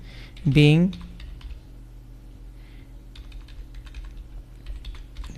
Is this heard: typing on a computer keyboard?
yes